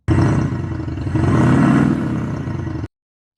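A Maxhaust electronic exhaust system on a Mercedes-Benz X-Class pickup plays a deep, loud rumbling engine roar through its speakers, swelling as if revving and then holding. It cuts off abruptly, leaving silence.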